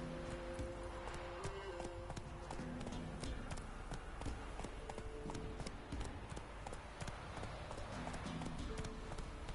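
Roach, the horse in The Witcher 3, gallops with a steady, rapid clip-clop of hooves that runs throughout, with faint tonal game music underneath.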